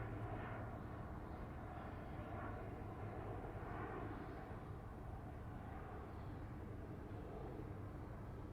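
An Airbus A350 airliner flies a steep landing approach at the Farnborough airshow, its jet engines giving a steady, broad roar that holds throughout, with no talk over it.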